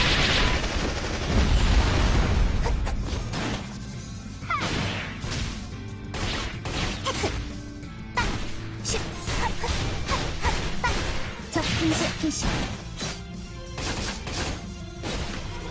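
Homing rockets firing in the action game Closers: a dense barrage of bursting blasts and crashes, loud and close, with rapid irregular hits layered over game effects throughout.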